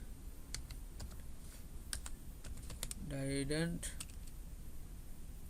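Typing on a computer keyboard while building a Blogger website gives scattered light key clicks in a quiet room, with a brief spoken word in the middle of the tapping.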